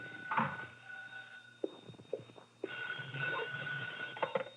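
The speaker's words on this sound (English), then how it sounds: "My phone was ringing when I got there." A telephone rings with a bright electronic trill in bursts, mixed with soft clunks and handling noises nearby.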